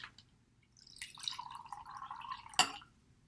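Water poured from a bottle into a glass, a short gurgling, rising pour ending in a sharp clink, quiet and close with no talk.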